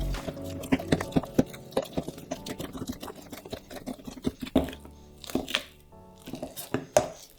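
Potatoes being mashed by hand with a splash of milk, giving a steady run of soft, wet squelching thumps and light scrapes close up, with a few louder knocks of the masher against the pot.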